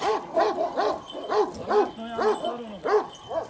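A ten-month-old dog barks repeatedly at close range, sharp yappy barks in a quick irregular series with slight whining tones between them.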